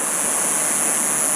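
River water flowing past old cliffs near a mill site, a loud, steady broadband rush of running water filling the whole stretch without a break.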